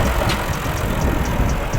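A tractor engine approaches from behind on farm ground: a steady, rumbling low drone with broadband mechanical noise, fairly loud and continuous throughout, with no talking.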